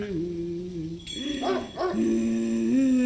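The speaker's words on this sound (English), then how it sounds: "that dog's growling again" A dog growls and whimpers in the horror game Spirit Hunter: NG, a low wavering tone that rises and dips over a few seconds, with a brief louder stretch in the middle against a steady background.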